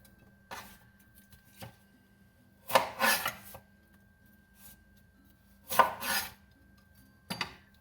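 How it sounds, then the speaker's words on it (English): A knife slices a white onion on a cutting board in a kitchen, several separate chopping and scraping strokes with pauses between them, close and fairly quiet, no talking. "I'm going to chop it down the middle"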